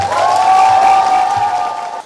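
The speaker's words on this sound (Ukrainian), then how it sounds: "Від ліцеїстів гучні аплодисменти" Loud applause from lyceum students at a school gathering in Odesa honouring a classmate headed to an international geography olympiad, a steady wash of clapping over a sustained tone throughout.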